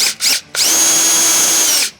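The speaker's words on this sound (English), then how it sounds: "You can now drill a hole in your grommet using a 3/16 drill bit." A power drill with a 3/16 bit boring a hole in a rubber grommet during trailer wiring on a Volkswagen ID.4: two short whirring bursts, then a loud sustained high whine for over a second before spinning down.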